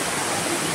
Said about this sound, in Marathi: वाल्याच्या पाण्याचा हा मोठा धबधबा आहे